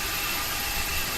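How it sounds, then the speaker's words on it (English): An aircraft auxiliary power unit in a flight simulator game runs at the gate before departure from Edinburgh, giving a steady, even hiss-like drone with no change in pitch over a short moment. "There's the APU you can hear."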